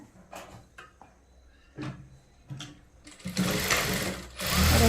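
A sewing machine stitches a blouse seam in short separate bursts of whirring, then runs continuously in two longer loud stretches, with small handling knocks between runs and no talk.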